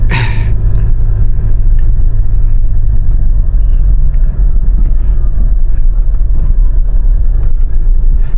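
A Mitsubishi Montero Sport with manual transmission crawls in first gear, a loud, steady low engine rumble droning close and unbroken throughout with only faint cabin noise above it.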